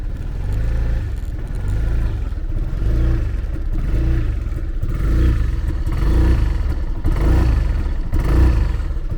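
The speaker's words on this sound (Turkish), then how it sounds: "TCS modu açıkken arkadaşlar gaz verdiğinizde gelen ses bu." A 2023 Sym Joymax Z+ scooter engine is revved repeatedly with traction control on, slow even surges, a loud close rumble rising and falling without ever climbing to full speed.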